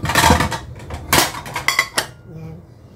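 Plates clink and clatter against each other as one is lifted out, several sharp ceramic knocks in quick succession, close and fairly loud, with no talking.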